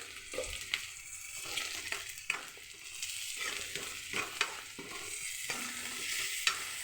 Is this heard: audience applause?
no